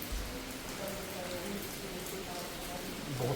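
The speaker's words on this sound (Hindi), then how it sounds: "कितनी बारिश है, कितनी," Heavy monsoon rain pours down with gusting wind over a waterlogged road, a steady, dense hiss filling the whole stretch at moderate level, with only faint traces of voices beneath it.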